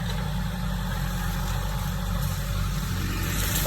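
Kubota tractor fitted with a grapple, its engine running steadily at a low idle-like rumble, close by and continuous with no speech, during land clearing for a homestead.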